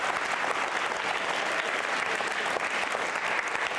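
A school quiz show audience claps for a contestant, dense and steady applause from a crowd, filling the moment without speech.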